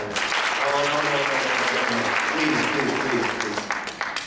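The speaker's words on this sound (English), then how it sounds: "That is not reason to applaud, please." An audience at a drug policy conference breaks into loud, sustained applause, and a speaker's voice cuts in as the clapping thins toward the end.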